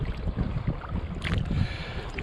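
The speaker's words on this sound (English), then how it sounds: "And we've got the wind behind us," Steady wind gusting across a lake while kayaking on Lake Eildon, a continuous low rumble of wind against the microphone with faint water and paddle movement, no talking.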